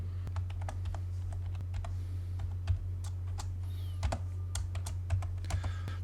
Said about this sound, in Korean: 단축키를 입력하고 엔터 클릭